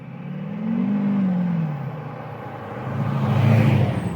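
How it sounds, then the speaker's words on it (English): A Chevy Silverado 2500 HD pickup with a Duramax LBZ V8 diesel, set up for towing a Heartland Bighorn RV, drones at low pitch, rising as it pulls ahead, easing off, then building again. "We will be using our Chevy Silverado 2500 HD."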